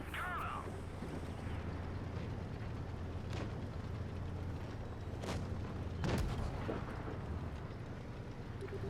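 Tank cannon shots in the World of Tanks Blitz game: three distinct booming blasts, evenly spaced a couple of seconds apart, ring out over a low rumbling engine bed at moderate, fairly quiet level.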